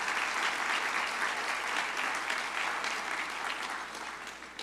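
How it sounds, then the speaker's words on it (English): An audience at a banquet bursts into full, dense applause that stays strong and steady before tapering slightly at the end. "Let's all give them a round of applause."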